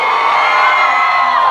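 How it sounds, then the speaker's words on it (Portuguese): Flamengo fans in a dense festival crowd at Porto Grande's pineapple festival roar together in one loud, sustained shout that fills the whole moment with cheering and whooping, close and overwhelming. "Só a torcida do Flamengo dá um gritão aí."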